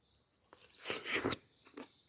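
Biting and chewing a soaked persimmon: a soft tap, then a close, wet crunching bite lasting under a second, followed by one more brief chewing sound, in a quiet setting.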